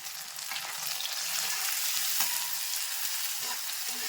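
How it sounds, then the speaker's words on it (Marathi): Chopped onion and tomato fry in a pan, giving a steady, dense sizzle that is close and constant throughout, with faint stirring scrapes and no talk. "ते गोल्डन ब्राऊन झालं की लगेच यामध्ये टोमॅटो टाकून घेत आहे."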